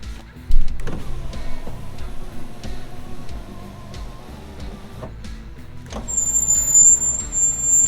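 Freshly installed power window motor in a Ford Foxbody Mustang running as the switch is tested, a continuous whirring drone with ticks and clicks, a sharp start and a high squeal near the end.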